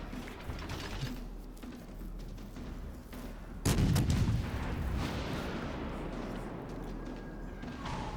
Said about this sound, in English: he takes a nasty little salvo, nasty little hit in the side from the New Orleans